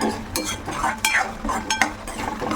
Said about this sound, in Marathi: साधारण एक चमचा बेसन पीठ म्हणजे चणा डाळीचं पीठ हे पण चांगलं मिक्स करून घ्यायचं आहे आणि सतत हलवत राहायचं